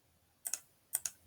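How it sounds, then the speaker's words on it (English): Calculator keys are pressed in two quick pairs of crisp, close taps, with a short pause between the pairs and near silence around them. "let's go ahead and type that in on the calculator"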